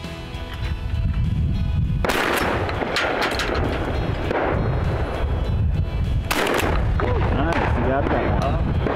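Shotgun blasts at a sporting clays course, two sharp loud reports several seconds apart with ringing echo, people talking between the shots.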